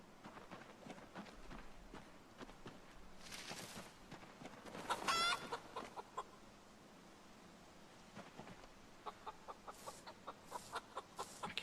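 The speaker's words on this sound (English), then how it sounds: "Let me go pet a few chickens." Chickens clucking in a video game, with a few short clucks scattered over quiet game ambience and a brief burst of louder activity midway, then a run of rhythmic soft clicks near the end.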